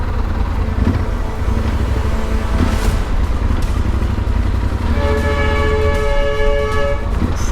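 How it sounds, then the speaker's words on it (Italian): Over a constant low road rumble in a traffic queue after an accident, a loud car horn blares in a long sustained tone, with shorter toots earlier amid the traffic noise. "Soliti clacson."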